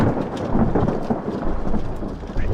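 Low rolling thunder rumbles continuously with the hiss of rain starting to fall, loud and close with no talking.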